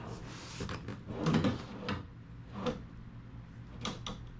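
Soft-close drawer slides on a boat are tested: several muffled slides and gentle thuds of drawers closing in close succession, with quieter clicks between them.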